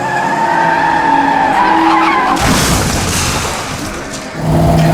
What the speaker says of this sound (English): where I present you Dutch backwards racing.